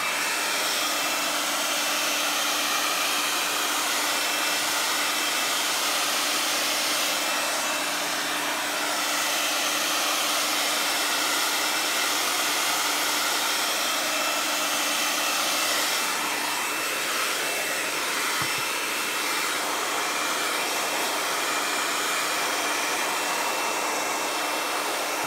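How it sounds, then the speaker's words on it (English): A hair dryer blows steadily on a sprayed art journal page, a loud continuous whooshing roar with a faint motor whine that holds for the whole stretch with no talking. "And I'm going to blow dry it."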